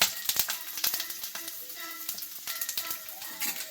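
Mustard seeds, chana dal, urad dal and green chillies spattering in very hot oil for a South Indian tempering, a dense crackle of sharp pops and sizzle, close and loud throughout.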